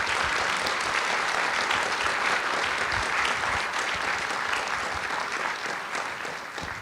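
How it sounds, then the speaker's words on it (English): Audience at a school's junior-year future planning information night giving a warm round of applause, dense and steady clapping from a crowded room that tapers a little at the close. "We can give them a round of applause."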